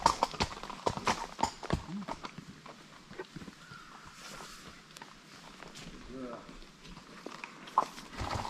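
Horses walk along with steady hooves clip-clopping at close range, an uneven rhythm of hoof strikes with a few louder knocks, while people talk quietly nearby.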